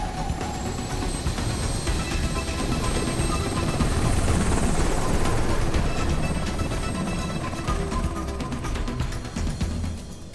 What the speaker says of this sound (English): The helicopter will return again at the end of the day to pick up the science team.